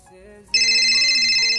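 A phone ringtone starts abruptly after a half-second of faint talk and rings on loud and steady with a bright electronic tone, with a voice faintly beneath it.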